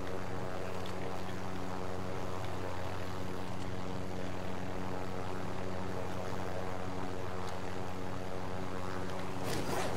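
A steady, droning aircraft engine hums in the Warzone Trios video game, holding a constant pitch at moderate loudness with no talk over it.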